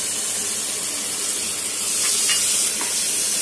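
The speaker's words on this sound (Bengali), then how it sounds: "টমেটো পিউরিটা দিয়ে ভালো করে নাড়াচাড়া করে এর মধ্যে দিয়ে দেব।" Tomato puree being stirred into a frying mixture in a pan, a steady close sizzle with faint scraping strokes near the end.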